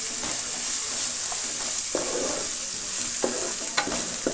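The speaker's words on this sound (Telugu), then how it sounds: "ఇప్పుడు మనం దీన్ని ఫ్రై చేసుకుందాం." Ginger garlic paste frying in a pan for chicken curry, a continuous loud sizzle with intermittent scraping stirs of a spoon, no voices over it.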